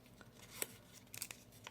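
Scissors snip through folding paper for a green origami dragon, a few short, faint cuts close by with small rustles in between.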